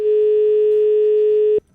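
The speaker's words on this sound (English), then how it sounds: "We'll take a phone call now." A steady electronic telephone line tone from an incoming call on a radio phone-in show, one continuous loud pitched note with harmonics lasting about a second and a half before cutting off abruptly.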